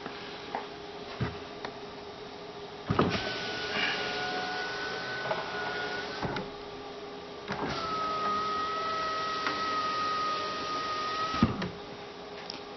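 The rear power window of a 1995 Mercedes W124 E320, its cable still noisy, whirs up and down in several long runs with squeaky, ticking mechanical noise and clunks at each stop.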